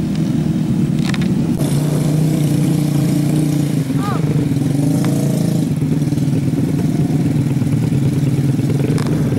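A trail motorcycle taxi carrying rice grain labours along a muddy rice-field track, its engine a loud, steady drone close by with clattering from the rough ride and a voice talking over it.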